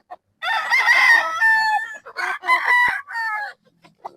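A bull stag gamefowl crows close and loud in one long, ragged call, followed by a few short clucks.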